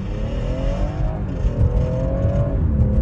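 A 2019 BMW 440i Gran Coupe M Sport (F36) launches hard under launch control, its engine note climbing steadily in pitch, easing briefly, then climbing again over a heavy close-up rumble, with no talking.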